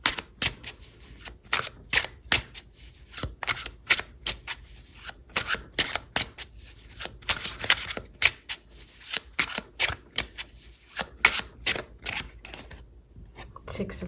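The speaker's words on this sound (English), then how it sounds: "Let's pull all your cards and then we'll talk about it." Tarot cards shuffled in the hands, sharp rapid riffles and slaps repeating in bursts, close and crisp with brief pauses between.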